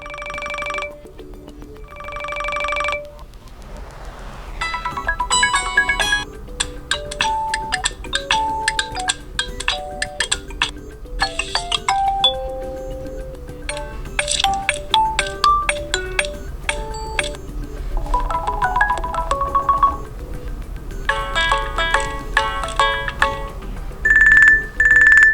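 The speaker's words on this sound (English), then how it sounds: "you will see the list of ringtones, and you can listen to them by tapping on one to listen to it." Xiaomi Watch 2 Pro ringtones previewed one after another: a string of electronic chimes, beeps and melodic ringing tones, each brief and changing, bright and clear with short gaps and no talking.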